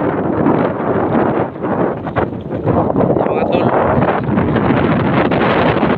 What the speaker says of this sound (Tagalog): yung lakas ng hangin mga tol